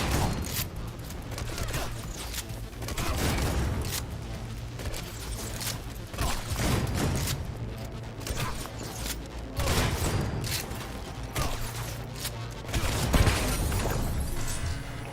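Sustained bursts of gunfire from a gun in Cyberpunk 2077, loud, rapid volleys repeating in waves across the whole stretch with brief lulls between, mixed with crashing and mechanical clatter.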